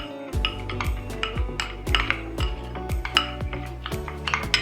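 A utensil stirring olive oil paste in a bowl, knocking rhythmically against the sides with repeated ringing clinks and scrapes, steady and close, with no talking.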